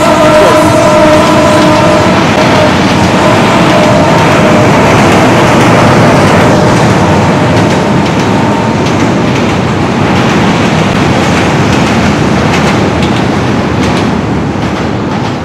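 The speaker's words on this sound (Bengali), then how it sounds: "অনেক ট্রেন চলে আসছে" A train rumbles steadily across a railway bridge over the Atrai river, loud and close throughout, with a continuous clattering roar and faint tonal squeals early on.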